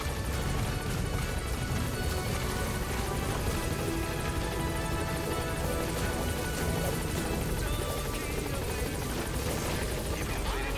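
Support helicopter in Metal Gear Solid V arriving at a landing zone, a steady loud rotor thrum and engine roar filling the whole stretch without letup.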